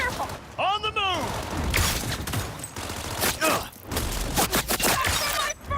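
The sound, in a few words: gunfire in the video game Cyberpunk 2077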